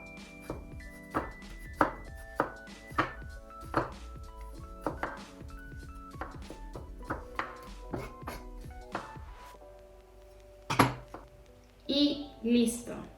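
A knife chopping a single garlic clove on a cutting board: a dozen or so sharp, evenly paced taps, fading toward the end, followed by a few clinks of utensils against a dish.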